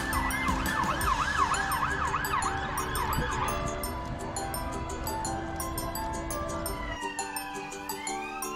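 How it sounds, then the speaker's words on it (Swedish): A police car siren wails in a fast, repeating up-and-down pattern, loud and close at first, then easing into a steadier tone as the vehicle's sound fades slightly. "Polisbil."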